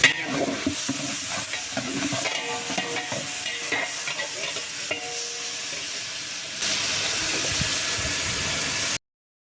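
Onions sizzle and crackle steadily in hot oil, with occasional scraping stirs in the pan, continuous and fairly close.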